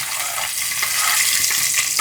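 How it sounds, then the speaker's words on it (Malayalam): Sliced shallots frying in coconut oil, a steady close sizzle and crackle with no talk. "വെളിച്ചെണ്ണയിലേക്ക് ചുമന്നുള്ളി അരിഞ്ഞിട്ടു."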